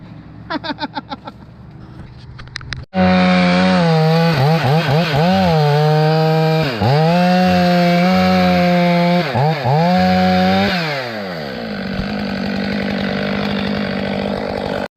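A chainsaw cuts into a huge rotten oak during a tree removal: a few sputtering pulls, then a loud, close roar that bogs and revs repeatedly as it bites the wood before winding down to a lower idle.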